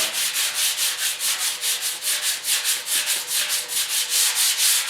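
Hand sanding a filled dent on a 1974 Yamaha RS 100 motorcycle tank with a light pad of 150 grit sandpaper: steady, close back-and-forth rasping strokes in an even rhythm, about twenty passes with no talk.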